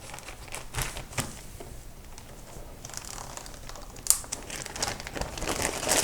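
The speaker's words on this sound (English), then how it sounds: "use a plastic film to wrap it and then save in the bag" Handmade vanilla glycerin soap being wrapped in plastic film, giving a continuous soft crinkling and rustling of plastic with a sharper crackle midway, close and fairly quiet, with no talk.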